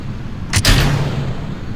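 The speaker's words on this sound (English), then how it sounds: "First rocket launch" A rocket launches in the video game Kerbal Space Program as a single sharp, loud blast that settles into a low, sustained rumble.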